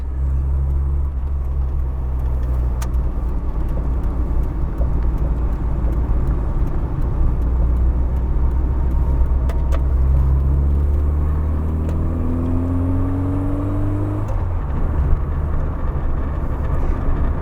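An MG Metro's small engine drones steadily, then revs rise and fall in a quick rev-matched downshift into third on a roundabout before settling again, loud and close throughout.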